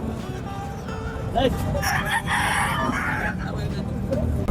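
Rooster crowing at a busy outdoor pet market among caged fowl, the call rising over a dense crowd murmur and background chatter, with people talking throughout.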